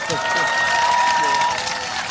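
A talk-concert audience gives steady, dense applause welcoming the Seoul mayor onto the stage, with a voice speaking over the clapping.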